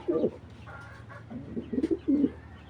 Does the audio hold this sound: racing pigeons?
yes